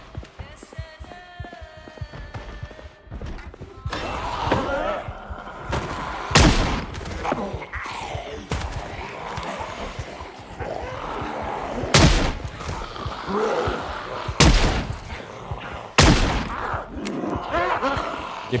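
Gunfire in the Project Zomboid video game: several sharp, loud shots at irregular intervals over ongoing game noise and rustling, with people talking in places.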